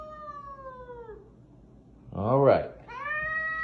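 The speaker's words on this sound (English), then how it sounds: "now your cat's hissing at me and took a swing at me on my way in." House cat meowing at a visitor who has just come in: two drawn-out, wavering meows, the second louder and close, with someone speaking briefly around them.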